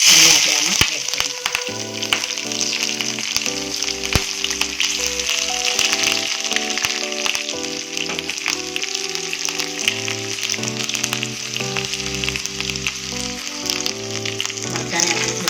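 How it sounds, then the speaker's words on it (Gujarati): Chopped green chilies, peanuts and curry leaves fry in hot oil for a fasting-day khichdi, giving a continuous crackling sizzle that sits under prominent background music throughout. "આપણી સિંગ અને લીમડો તેલમાં સરસ થઈ જાય એમાં મરચાં આપણે જે કટિંગ કરીને રાખ્યા હતા એને આપણે આમાં એડ કરીશું"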